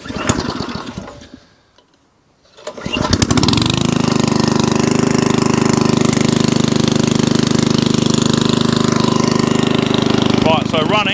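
An MDT T380 tiller engine catches after a brief silence and settles into a loud, steady, close running drone that continues to the end.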